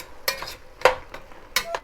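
Chili in a pot being stirred together with hot red pepper sauce: a few scraping, clattering strokes of a utensil against the pot, close and fairly quiet, with no talk over them.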